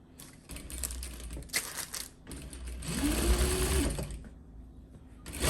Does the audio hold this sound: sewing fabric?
yes